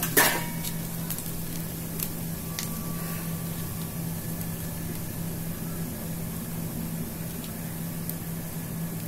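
Turmeric and asafoetida sizzle in hot oil for a pickle, a soft, steady bubbling hiss over a low hum, continuous and fairly faint, with a few tiny pops.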